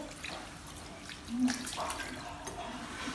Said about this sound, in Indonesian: Kemudian basahi tangan dengan air mengalir.